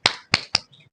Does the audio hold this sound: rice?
no